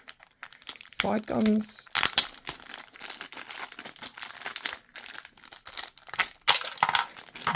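Plastic wrapping around a Hasbro Star Wars AAT toy crinkles and rustles in repeated loud bursts during unboxing, with a person briefly speaking near the start.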